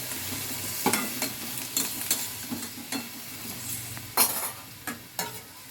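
Young jackfruit curry being stirred in a pan with a spoon, giving soft scraping and clinking strokes at an irregular pace over a low, steady sizzle, close and moderately quiet.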